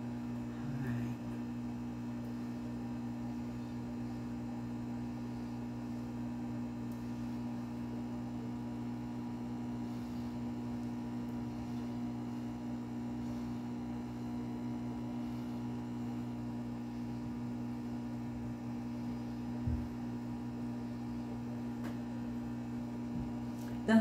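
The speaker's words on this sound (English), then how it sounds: "The humming you hear is the resin debubbler. It's debubbling the rest of my resin." A resin debubbler machine running, a steady low electrical hum continuing unchanged throughout at a quiet level, with faint small handling noises.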